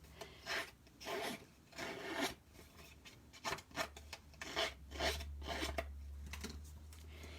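A paper craft card is scraped to distress its edges, giving soft, rhythmic rasping strokes in short bursts close to the microphone. A low hum enters partway through, and no one speaks.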